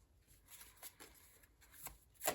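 Tarot cards being shuffled by hand, a quiet series of soft riffling and flicking bursts with a louder snap of cards at the end, no talking.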